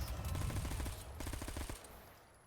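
Fast, precise gunfire in a video game: a rapid, evenly paced string of close shots that thins out and fades to quiet near the end.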